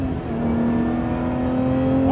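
A Lotus Emira's exhaust drones in a steady, sustained rev from inside the cabin, with a rising engine note and a brief flare near the end.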